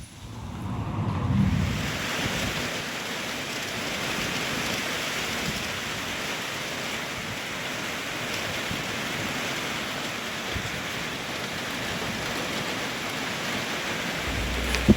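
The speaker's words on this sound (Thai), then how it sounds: "ตกมาทั้งฝนทั้งลมพี่น้อง" A rain and strong wind storm in the countryside, heavy rain and gusting wind roaring as one steady, loud wash of noise throughout, with no voices.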